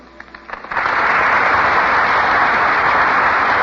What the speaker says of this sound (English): The audience bursts into applause.